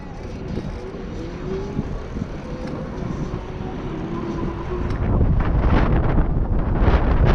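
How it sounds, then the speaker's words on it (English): Heavy wind buffets the microphone on a bike ride with a stock controller at maximum settings, a continuous loud roaring rumble that grows stronger toward the end, with no voices. "wind's feeling pretty heavy"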